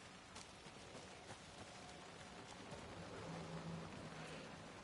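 Steady rain falls quietly in the video game Alan Wake 2, a soft continuous patter of drops on surfaces with no voices.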